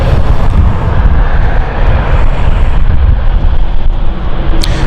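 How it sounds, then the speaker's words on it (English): A passenger jet on the Frankfurt flight roars steadily close by at London City Airport, a loud broadband rumble with gusty wind noise on the microphone and no voices. "So that was the Frankfurt flight."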